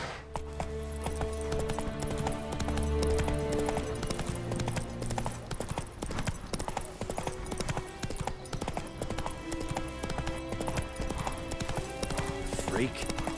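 Horse hooves galloping in The Witcher 3 video game, a continuous fast clip-clop rhythm over game ambience and music, with a voice speaking briefly over it.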